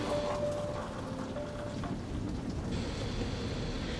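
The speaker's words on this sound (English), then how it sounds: "enjoying the comforting sounds of the rain hitting the" Steady close patter of rain hitting a window, a continuous dense wash with no voices over it.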